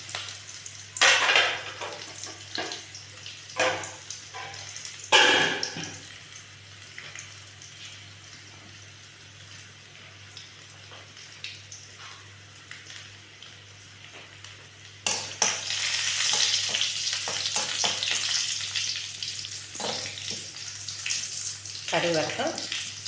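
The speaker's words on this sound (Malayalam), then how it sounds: "കടുക് വറുക്കുക" Mustard seeds crackle and sizzle in hot oil with shallots, green chilli and curry leaves, sharp popping bursts early on, then a dense loud sizzle near the end, with a pan clink or two and a low steady hum throughout.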